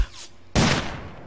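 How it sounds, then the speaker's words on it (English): A single burst of M4A1 rifle fire in the video game Ring of Elysium, one sharp report that rings out and decays over about a second. "He's shooting me with an M4A1."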